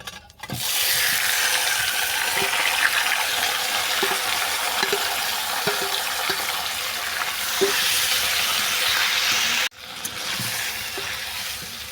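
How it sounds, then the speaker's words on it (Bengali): Marinated chicken hits a pan of oil with fried bay leaf and whole garam masala spices, giving a loud, steady sizzle with faint scraping clicks and a brief dip near the end. "এরপর ম্যারিনেট করা চিকেনটা আমি এর মধ্যে তুলে দেবো।"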